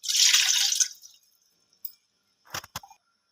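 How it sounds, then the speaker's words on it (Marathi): Water from a glass is poured into a dissolved sugar mixture for Maharashtrian dhokla batter, a short close pour that fades out, followed by a few faint drips and clinks. "याच्यामध्ये 1 ग्लास पाणी टाकायचं आहे."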